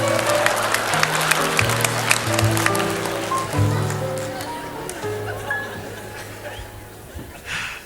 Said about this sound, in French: Eh bien, Magali, qu'on applaudit très fort.